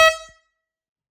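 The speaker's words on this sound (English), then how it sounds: "grab your air horn and get ready to do that. And then you will blow in the horn." A handheld air horn gives one short loud blast, a chord of bright stacked tones that ends sharply after about a third of a second to close a round of an MMA bout.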